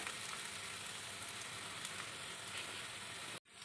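Spices sizzling in a pan with carrots and peas for Indo-Chinese veg fried rice, a steady, dense frying hiss that runs without a break, then cuts off abruptly near the end.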